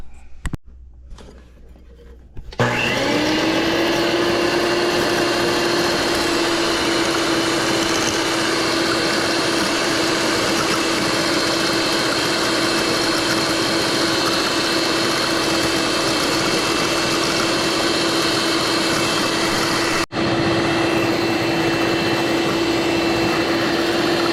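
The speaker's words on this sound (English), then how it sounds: "we're going to beat these egg whites until they have a stiff peak" An electric whisk beats egg whites to stiff peaks for low-carb almond bread, starting after a brief quiet moment and then whirring loud and steady with a constant motor whine, briefly cutting out once before resuming.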